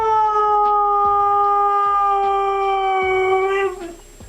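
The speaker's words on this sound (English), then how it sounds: "It's a husky." A husky howls in one long, sustained, wavering tone that holds steady and then trails off near the end, loud and close, with faint background clatter underneath and no talk.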